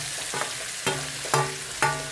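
Green chillies and half-cooked onions sizzle in a pan, with four sharp scraping stirs landing about every half second over a steady low frying hiss.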